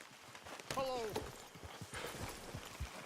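Hooves clip-clop from a horse in Red Dead Redemption 2, a moderate, uneven walking rhythm mixed with game voices and a brief whinny-like tone.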